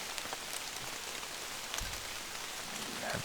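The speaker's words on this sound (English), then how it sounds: "Obviously, with this rain, can't hear anything." Rain falls steadily around a hunter sitting in a tree stand on a bow season opener, a constant close patter on wet surfaces with a few louder drops, no voices.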